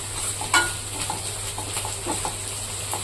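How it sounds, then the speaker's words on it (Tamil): Chopped onions sauté in a hot pan for a spicy fish curry, giving a steady close sizzle. A spoon scrapes and stirs through it in soft, irregular strokes, with no talking. "கொஞ்சம் டைம் எடுத்து நல்லா வதக்கி விட்டுக்கணும்"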